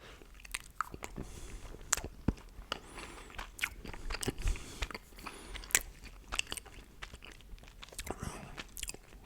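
Milk chocolate is bitten and chewed close to the mic in a quiet setting, with repeated sharp snaps and crunches followed by soft, wet chewing in an irregular rhythm, no talking.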